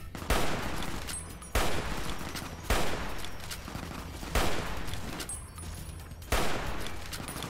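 Gunfire in the video game Fallout New Vegas comes as five loud, evenly spaced bursts of shots, each with a sharp attack and a short fading tail.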